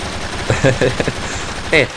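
A minigun turret fires in the zombie shooter game Dead Trigger, rapid bursts of gunfire rattling under someone talking over continuous background game noise.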